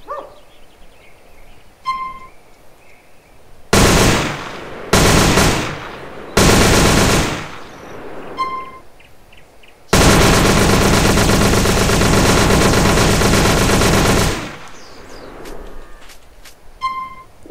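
Micro SMG fire in GTA San Andreas with an HD weapons mod: several short loud automatic bursts, then one long sustained stream of rapid shots, separated by quiet gaps with faint beeps.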